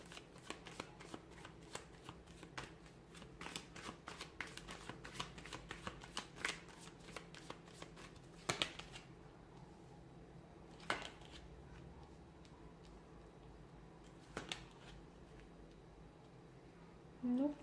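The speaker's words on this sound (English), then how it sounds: "give the cards a shuffle" A deck of tarot cards is shuffled by hand in a quiet room: rapid repeated riffles and shuffles, then a few sparse taps and slides as the shuffling slows.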